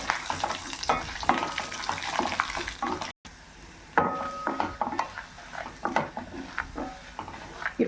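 Grated coconut and garlic fry in a pan for a Tamil vallarai keerai thuvayal, a continuous close sizzle broken by repeated scraping and stirring of a utensil against the pan, with a brief silent gap partway through.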